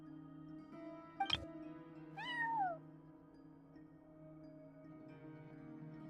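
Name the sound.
cat meowing in the video game Genshin Impact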